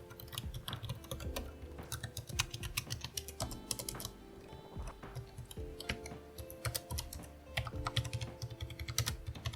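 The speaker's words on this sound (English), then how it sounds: "The typing noise on this is very low." Rapid, steady typing on a Logitech K780 multi-device keyboard, soft clicky keystrokes in a continuous close-up stream with no talking.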